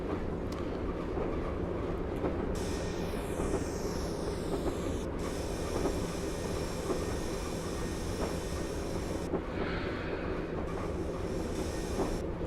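A Class 101 diesel multiple unit running on the Weardale and Teesdale line in a train simulator game, a steady rumbling engine drone with a rhythmic rail clatter and brief squealing tones, continuous and close, without speech.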